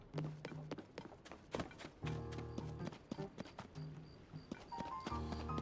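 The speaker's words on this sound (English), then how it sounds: "Okay, there are horses up here." Horses clip-clop in the video game The Legend of Zelda: Tears of the Kingdom, with irregular hoof taps, clustered hoofbeat bursts and brief tonal game sounds, close and clear.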